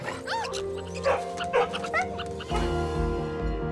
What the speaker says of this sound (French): Bon chien, ça.